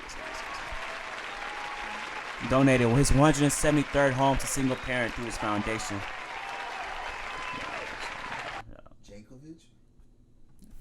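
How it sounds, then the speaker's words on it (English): Audience applause and cheering honour former New Orleans native and Atlanta Falcons player Warwick Dunn, swelling loudly over a podcast host's speech, then thinning and dropping off near the end. "Hold on, round of applause."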